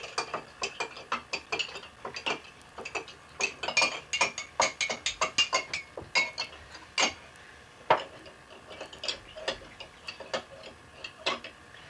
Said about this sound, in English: Let's stir that Easter egg.